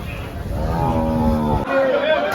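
A buffalo moos loudly and close by at a buffalo market, a deep drawn-out bellow followed by a shorter second call.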